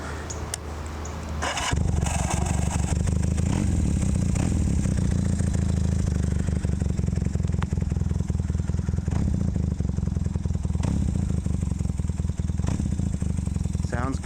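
A Kawasaki KZ400 tracker motorcycle is cranked and catches after a short quiet start, then settles into a loud, steady, rattly idle close by.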